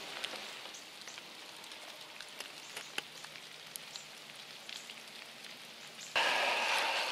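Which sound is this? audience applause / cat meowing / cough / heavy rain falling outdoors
heavy rain falling outdoors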